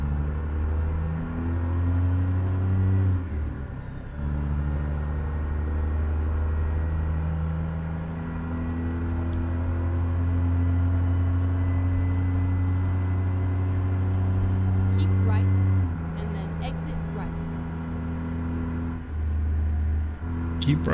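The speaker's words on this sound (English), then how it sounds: "This is a big engine too" Heavy truck with a Caterpillar C16 engine, a Peterbilt 379, driving in American Truck Simulator, a continuous deep diesel drone with gear-change dips and revving, loud and steady, with faint talk at moments.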